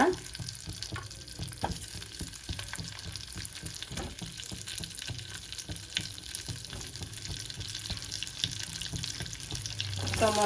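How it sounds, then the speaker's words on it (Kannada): Tomatoes and green chillies frying in oil in a pan, a continuous soft sizzle with occasional stirring scrapes and clinks, fairly quiet and close. "ಟೊಮೊಟೊ ಹಸಿಮೆಣಸಿನ್ಕಾಯಿ ಇದೆಲ್ಲ ಡೀಪ್ ಫ್ರೈ ಮಾಡ್ಕೊಳ್ಳೋಣ"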